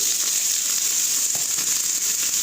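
Shrimp frying in a spoonful of olive oil in a pan, a steady close hissing sizzle with no talk.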